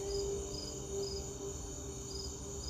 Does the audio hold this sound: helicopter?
no